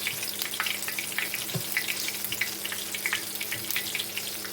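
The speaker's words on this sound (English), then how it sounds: "Meanwhile, my tomatoes are cooking away next to the next batch." Green tomatoes frying in a pan, a steady broadband sizzle and crackle with scattered pops and faint clinks, moderately close and continuous with no talking.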